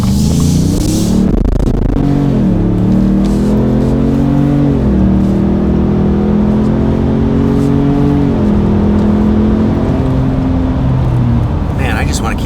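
A sporty car's exhaust roars under hard acceleration, a loud, continuous engine drone that climbs in pitch, drops at each gear change, then climbs again, close and sustained.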